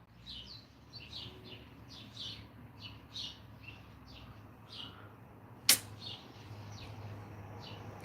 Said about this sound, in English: Listen how I sing and the birds come out.